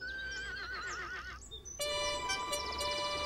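A horse in a children's animated story whinnies twice in a row, each neigh a loud, wavering call, heard close and clear over a soft background.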